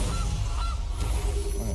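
A goose honk from the Gilded Goose card in MTG Arena, a few short nasal honks over a dense, noisy game backdrop.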